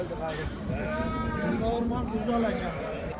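Lambs bleat in overlapping wavering calls at a livestock market, a steady crowd of animals close by with chatter mixed under them for the whole stretch.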